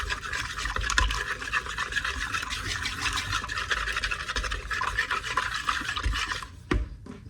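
Sourdough starter being mixed thoroughly in a container, a continuous soft scraping and sticky churning at close range, with a few brief knocks toward the end.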